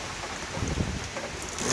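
Rain driven by gusting wind onto a roof during Hurricane Dorian in Halifax, a steady dense wash of noise with slight surges, continuous and fairly close, with no voices.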